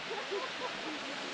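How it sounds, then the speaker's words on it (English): Wei Sawdong Falls, a three-tier waterfall cascading over natural rock formations into three levels, gives a steady broadband roar of rushing water, continuous and even, with faint voices underneath. "Wei Sawdong Falls is a 3-tier waterfall where the water cascades down natural rock formations into 3 distinct levels"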